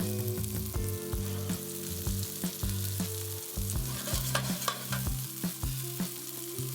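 Chicken meatballs fry in a small amount of olive oil in a pan, giving a steady close sizzle broken by repeated bumps and scrapes as they are turned and moved around.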